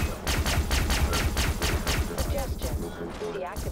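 Rapid bursts of rifle fire in the sci-fi shooter Far Cry 3: Blood Dragon, a fast rhythmic string of loud, close shots for about two seconds, then tapering into game effects.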